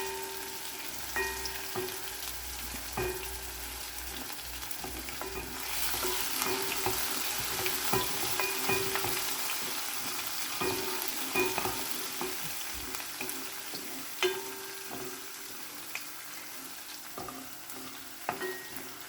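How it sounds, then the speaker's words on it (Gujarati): Garlic sautés in a hot pan for bhinda kadhi, a steady close sizzle and crackle with occasional stirring scrapes and clicks throughout, and no voices. "બરાબર સાતડી કાઢીએ પછી લસણનો કલર થોડો ચડી જાય"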